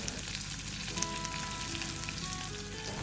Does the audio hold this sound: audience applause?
no